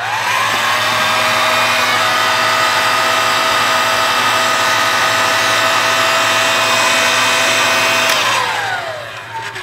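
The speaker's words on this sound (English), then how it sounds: "I'll just rattle everything around while I get the heat gun" A heat gun blows hot air over a cable joint on a cheap Chinese floodlight, a loud, steady, close whooshing roar with a constant motor whine that holds for about eight seconds before tapering off.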